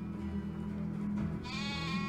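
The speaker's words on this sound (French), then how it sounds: "Donc là, on a les moutons." Sheep bleat in the farming village of the medieval survival game Medieval Dynasty, one drawn-out wavering bleat rising over a quiet ambient game background, with no talk.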